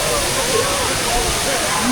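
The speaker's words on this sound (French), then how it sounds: "pour me prendre un seau d'eau sur la gueule" Water crashes down in a continuous heavy splash and rush at a water park in Malaysia, loud and close, with a voice faintly underneath.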